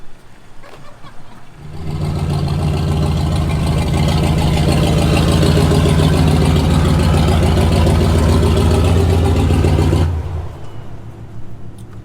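Chevy fitted with a turbo and nitrous, revving on a dyno: a loud, sustained engine roar builds over a couple of seconds, holds steady for about eight seconds, then drops back to a low idle.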